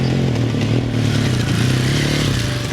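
A 2024 KTM 450 EXC-F dirt bike engine runs loud and close, a continuous throbbing drone with slight shifts in pitch and no talk over it.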